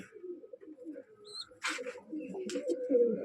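A female pigeon coos softly at close range in a few low, throaty notes, with brief chirps and rustles from other birds in a loft.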